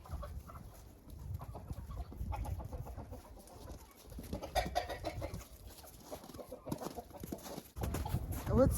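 A hen on a farm clucks softly in short irregular bursts, close by, with some rustling between the calls.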